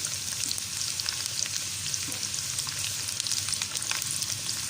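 Green chillies frying in hot oil for a tadka dal: a steady, dense crackling sizzle, close and continuous, with no voices.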